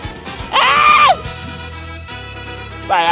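A narrator voices a short, high imitation scream, a loud shrill wail of about half a second, with a second brief shriek starting at the end over soft background music.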